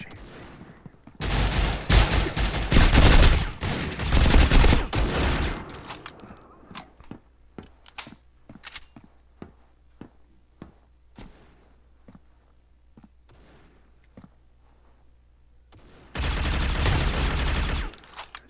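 Loud sniper fire in the shooter game Critical Ops, with a sustained burst of heavy gunfire, then a quieter stretch of sharp single shots and footsteps, and another loud burst at the end.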